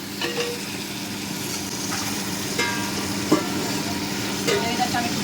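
Food fries in a pan at home, giving a continuous low sizzle broken by occasional scrapes and taps of stirring, with people talking at times.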